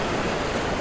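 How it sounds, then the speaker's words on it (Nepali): A river rushing along in the hills, with steady broadband water noise that stays even and full throughout and never breaks. "सल बगेको खोला हेर्नुहोस् त"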